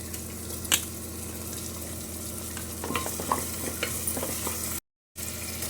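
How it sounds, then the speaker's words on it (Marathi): Onion, tomato, potato and carrot fry for pav bhaji, a steady close sizzle with scattered stirring scrapes and a brief silent gap near the end. "कांदा भाजून झालेला त्याच्यामध्ये आता मी टोमॅटो घालते हे भाजत आल्यानंतर बटाटा आणि गाजर घालते"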